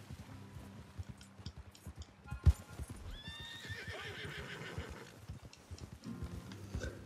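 Hooves clip-clop in a steady gallop while a horse whinnies in Red Dead Redemption 2 Online, a game soundscape with faint background effects and a sharp thud midway.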